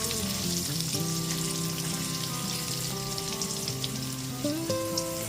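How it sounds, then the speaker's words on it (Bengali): Potato pieces fry in oil seasoned with turmeric and salt over a medium flame, giving a dense, continuous sizzle beneath steady tonal hum, with no talking. "আলুটা এখানে লাল করে ভেজে নিয়েছি"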